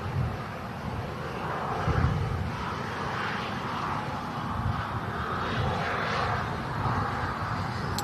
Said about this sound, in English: next to land is the Singapore Airlines flight from Houston